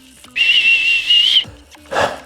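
A steady, breathy whistle held at one pitch for about a second, a voice imitating howling mountain wind, followed by a short softer breathy puff.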